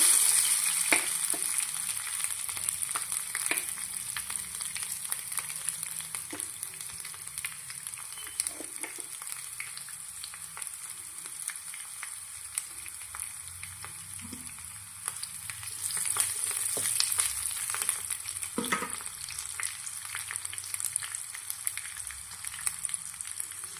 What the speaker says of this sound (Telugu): పోపుకి వెల్లుల్లి రెబ్బలండి ఇలా కచ్చపిచ్చ దంచుకోవాలి అవి వేసుకుంటున్నాను